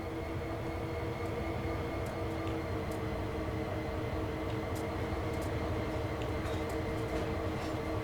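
Santa Fe SD diesel locomotives in a train simulator idle with a steady, continuous rumbling drone and faint higher clicks, heard alone at moderate level.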